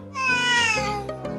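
A young kitten lets out one clear, drawn-out meow up close, rising then falling over about a second before a few soft trailing sounds.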